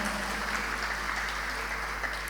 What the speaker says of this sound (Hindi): एक बार इसके लिए जोरदार तालियां बजाइए